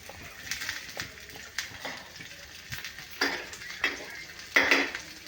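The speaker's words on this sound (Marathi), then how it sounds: "मी आता छान मस्त कांदा असा एकदम परतून घ्यायचा आहे लाल होईपर्यंत" Onion being sautéed in a little oil in a pan for a dhaba-style shev bhaji, with repeated scraping and clinking of a utensil against the pan over a faint sizzle, close and moderately loud.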